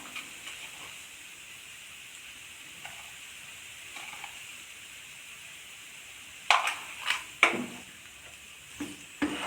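Cabbage and capsicum sautéing in a pan give a soft, steady sizzle and hiss, with a few louder clatters of stirring toward the end.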